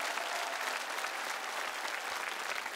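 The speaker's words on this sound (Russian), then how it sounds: "Но под наши бурные аплодисменты!" A television singing-competition studio audience applauds a departing contestant, a steady, even roar of many hands clapping at moderate level with no voices above it.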